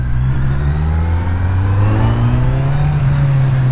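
A Kawasaki Z900 four-cylinder motorcycle engine revs up smoothly, its pitch climbing steadily and progressively, loud and close throughout with no one talking.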